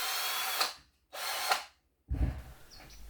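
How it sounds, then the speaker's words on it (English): A power drill boring a hole into the flat side of a natural wooden stick perch, with two short high whirring bursts followed by a lower grinding run as the bit bites in, close and alone. "then drill a hole in the flat side"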